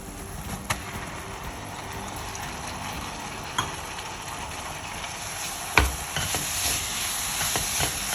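Grated coconut being stirred into jaggery syrup in a pan for modaka filling: a soft bubbling sizzle with occasional sharp scrapes and clinks of the spoon against the pan, close and steady.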